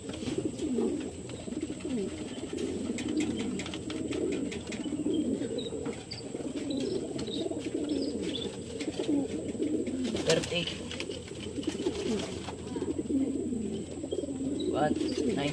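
Racing pigeons coo continuously in a low, burbling chorus, with occasional wing flaps and faint chirps, close by and filling the whole scene.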